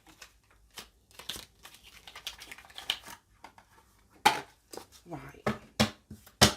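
Tarot cards being shuffled by hand at close range, with quick papery riffles and crisp slaps in irregular bursts, louder toward the end, with a brief spoken word early on.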